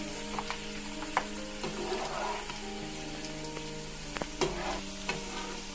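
Homemade french fries sizzle in hot oil with a steady, close frying hiss, punctuated by a few sharp crackles and stirring clinks.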